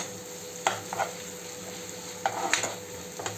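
Ginger garlic paste sautéed in a pan over a constant low sizzle, with brief spatula scrapes and taps recurring at irregular intervals, close and fairly quiet.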